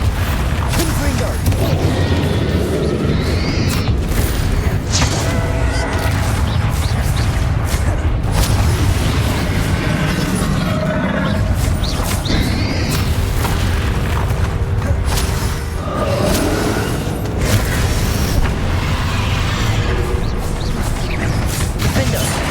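Booming spell blasts from a Hogwarts Legacy fight, where Confringo and Bombarda attacks go off repeatedly in a dense, loud, continuous barrage mixed with crashes and a busy game score.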